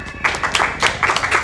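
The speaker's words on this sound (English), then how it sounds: "Wow, double clap, wow. Yeah, this is a synced clap" Two people clap in unison during a Super Metroid map randomizer race, several crisp paired claps spaced unevenly over a second and a half, close and fairly loud.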